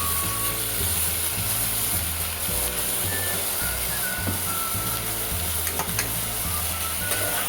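Brinjal and potato frying in a pan, a close, steady sizzle with a repeating rhythmic clatter of stirring throughout, alone.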